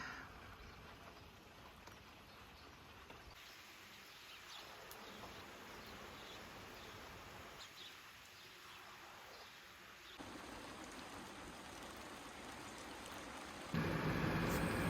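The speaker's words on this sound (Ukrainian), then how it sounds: "як бачите, дощ напустився ще з більшою силою" Heavy rain pours down outdoors in a steady, dense hiss with no break, growing noticeably louder near the end.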